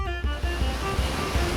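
Ocean waves surge and wash continuously in the open Pacific, heard from aboard a small boat, with broadband surf rolling in repeated swells and wind buffeting the microphone.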